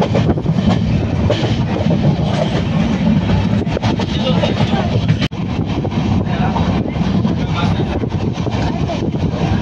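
Continuous loud rumble and rattling of the Bandra–Madgaon Express arriving at Panvel station, steady throughout with a brief dip midway, heard from close up.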